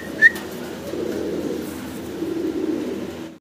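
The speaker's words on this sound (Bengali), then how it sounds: "ভিডিও স্ক্রিনে আমরা এখানে সিঙ্গেল 3 পিস কবুতর দেখতে পারতেছি" Fancy pigeons coo nearby in low, soft, repeated murmurs, with a brief sharper chirp near the start.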